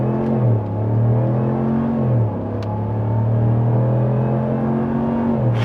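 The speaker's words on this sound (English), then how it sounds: "Off the line, sport mode, on the gas." A 2026 Ram 1500 Bighorn pickup with a 5.7 Hemi V8 accelerates hard off the line in sport mode, its deep engine roar rising through upshifts, loud and close inside the cab.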